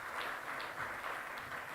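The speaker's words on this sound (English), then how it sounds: "a big, big round of applause for all of our wonderful speakers this morning" Audience at an arbitration conference applauding its morning speakers, a dense, even patter of many hands clapping steadily throughout without a break.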